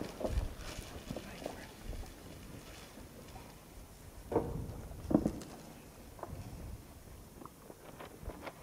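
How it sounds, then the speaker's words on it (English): Staged footsteps sound effect during a school drama performance: a faint, irregular run of soft steps over quiet hall ambience, with a few slightly louder footfalls near the middle. "Quiet, I think I hear some footsteps outside."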